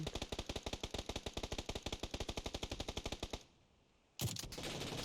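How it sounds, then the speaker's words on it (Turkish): Rapid automatic gunfire from the video game PUBG rattles in a steady burst of evenly spaced shots for over three seconds, stops briefly, then a loud noisy blast bursts in near the end. "Bak vuruyorum gitmiyor bak."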